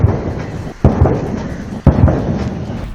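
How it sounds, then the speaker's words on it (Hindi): Cannon salute fired in honor of India's Prime Minister Modi in Sri Lanka: two loud, sharp booms about a second apart, each with a rumbling tail, over steady low crowd-like noise. "पीएम मोदी को श्रीलंका में तोपों की सलामी दी गई है।"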